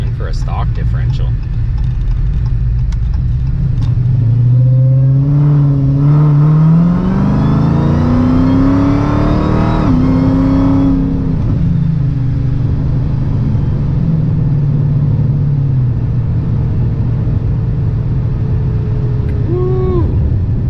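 A Dodge Challenger SRT Hellcat with built heads and cam accelerates hard, its engine note climbing and surging loudly before settling to a rumbling cruise with a noisy differential whine, heard from inside the car with a voice speaking over it.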